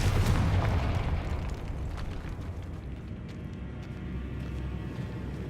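A Confringo blasting curse explosion in Hogwarts Legacy, a heavy booming blast up front that rolls into a long, dense rumbling decay.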